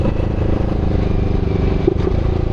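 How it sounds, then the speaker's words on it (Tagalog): A Yamaha R15 v3 motorcycle fitted with an exhaust silencer runs steadily, its engine a loud, even, throaty drone heard up close without talk. "Ganda talaga ng tunog nung ano, nung muffler natin pag naka-silencer."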